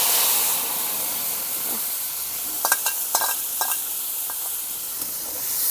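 Ground spice paste is added to hot oil in which cumin has been frying, giving a strong, steady hiss of sizzling broken by a handful of sharp utensil clinks and scrapes near the middle.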